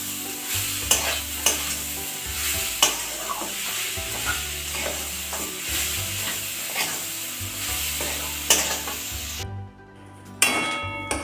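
Palm jaggery being stirred in a pan as it melts into thick syrup for patisapta pitha, a steady scraping stir over soft sizzling with sharp utensil knocks, close and continuous, dropping briefly near the end.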